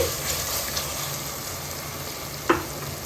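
Mutton head curry meat frying in a pan with tomatoes and spices, a continuous bright sizzle with faint stirring and one sharp clink of a utensil near the end, no voices.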